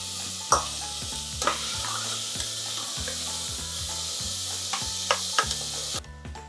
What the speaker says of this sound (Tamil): இப்போ தக்காளி வெங்காயம் நல்லா வதங்கிடுது